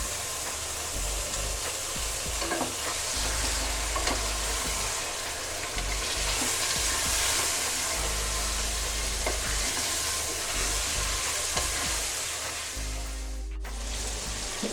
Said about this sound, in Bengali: এখন আমি খাসির গোশতটা দিয়ে দিচ্ছি।